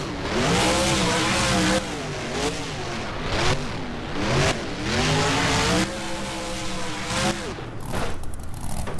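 A monster truck in the BeamNG video game roars, its engine revving and surging as it crashes and tumbles, with loud, continuous motor noise, pitch swings and a few thumping impacts.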